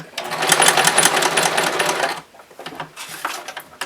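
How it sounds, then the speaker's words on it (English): A sewing machine runs a straight stitch through fabric for loungewear pants, first as a steady close whir for about two seconds, then, after a brief pause, as a few shorter stitching bursts. "using a straight stitch, I'm just going to create a rectangle."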